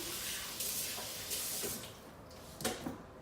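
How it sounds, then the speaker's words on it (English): Tap water runs as hands are rinsed under a kitchen faucet, a soft, continuous splashing with a few brief louder surges and gurgles. "rinse my hands again"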